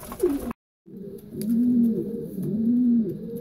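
Racing pigeons cooing close by in a loft, a soft rolling coo repeated twice in steady succession after a brief silence, with faint background noise.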